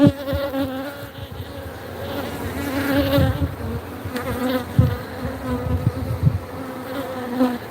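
Honeybees swarm around a wooden hive box and its tower, a dense, continuous close-up buzzing drone with individual bees flying past the microphone.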